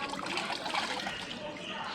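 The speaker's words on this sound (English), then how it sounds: "clean his bicycle with clean water" Clean water splashes and trickles over a Brompton-type trifold folding bicycle as it is rinsed of soapy water, a steady close hiss and patter of running liquid throughout.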